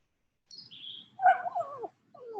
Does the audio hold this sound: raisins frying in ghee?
no